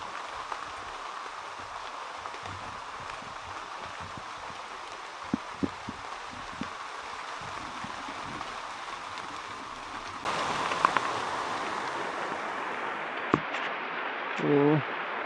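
Light, steady rain hisses in the background with occasional drips and taps, growing a bit louder partway through, and a brief voice near the end.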